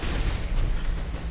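Cannon shot explosion in the video game War Robots, a loud broadband boom that fills the whole short moment with dense rumbling noise and no speech.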